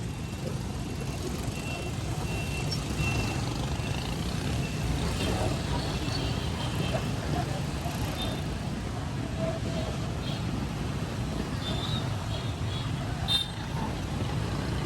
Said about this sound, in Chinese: 车流量是非常非常大啊